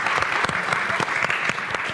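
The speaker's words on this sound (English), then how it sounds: "We have a round of applause for them as well," Brisk, steady applause from a conference audience at the Leeds Conservatoire venue, thanking the organizing team and volunteers, close and continuous.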